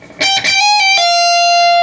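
A distorted electric guitar plays a short riff, a few quick picked and hammered notes settling into one sustained ringing note, loud and close.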